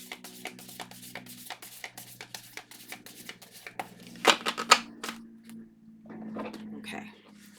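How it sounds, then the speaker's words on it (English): Tarot cards mixed and shuffled by hand at close range, soft papery flicks and taps in an uneven run, with a louder cluster of slaps near the end over a faint hum. "We're going to have to mix up the cards that are jumping out because there's quite a number of them"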